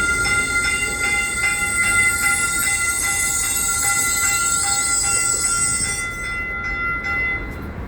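Interior of a southbound local commuter train bound for San Jose Diridon: a steady loud rumble of wheels on track with rhythmic clicking joints and high whining tones that cut off near the end, no talking.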